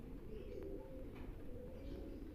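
Pigeons being handled give faint, low cooing under a quiet, steady background, soft and hard to pick out.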